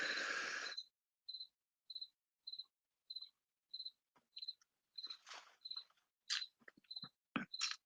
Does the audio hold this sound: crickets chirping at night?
yes